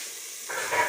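Shredded chicken and a little flour sautéing in a pan give off a steady, close hiss that jumps louder halfway through.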